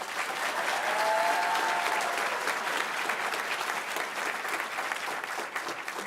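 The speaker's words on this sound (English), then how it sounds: "Please join me in giving my fellow students a quick round of applause for all of their hard work" Audience applause at a 2023 graduation commencement ceremony, a dense, steady wash of clapping from a large crowd that holds loud and even for about six seconds with no talking over it.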